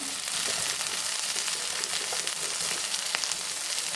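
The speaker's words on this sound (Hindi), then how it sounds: "अब प्याज आलू को भी इसी तरह से हम अच्छे से हाई फ्लेम पर रोस्ट करेंगे" Onion and potato roasting over a high flame for a dhaba-style garlic paratha dish, giving a steady, dense sizzle and crackle that stays loud and close throughout with no talk.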